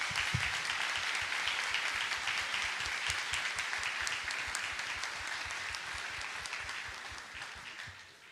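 Church congregation applauds at a service, a continuous wash of many hands clapping, fairly quiet and distant, steady throughout and slowly fading toward the end.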